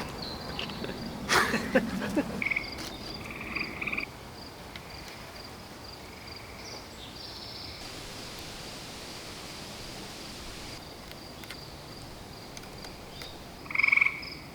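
Frogs croak loudly at night beside a hand-built log cabin in the woods, throaty calls bursting in clusters over a constant hiss of insects and background night noise.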